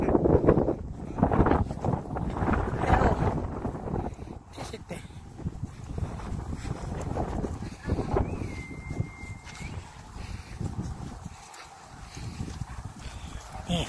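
Strong, violent wind roars and buffets continuously outdoors, rumbling against the microphone, while someone talks throughout.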